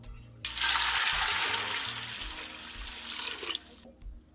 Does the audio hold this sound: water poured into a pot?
yes